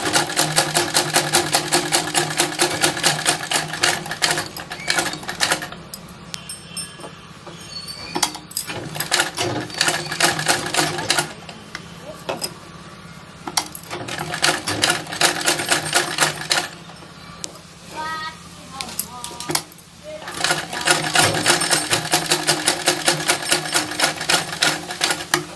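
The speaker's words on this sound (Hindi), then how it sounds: "हम इस पे सिलाई लगाएंगे।" Sewing machine stitching small fabric scraps for a decorative back design: loud, close, continuous rapid clatter with a few brief pauses and restarts, and no talking.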